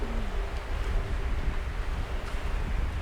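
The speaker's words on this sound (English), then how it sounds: "We'll see how the wind goes." Steady outdoor wind at a woodland campsite, a continuous low rushing roar buffeting the microphone throughout with no one speaking.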